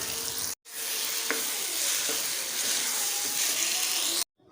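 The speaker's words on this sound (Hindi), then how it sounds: "अब हम इसमें बैंगन शामिल कर देंगे और इसको भी अच्छे से भून लेंगे" Eggplant fries in a spiced masala for baingan bharta, a dense, even sizzling hiss close up with a couple of light clinks of a spoon, bracketed by brief silences at either end.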